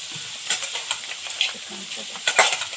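Crab legs fry in a pan with chopped onion, making a bright crackling sizzle. Scraping stirs and light utensil clicks sound close by, in a few short bursts.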